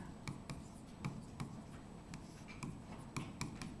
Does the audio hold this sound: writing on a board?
yes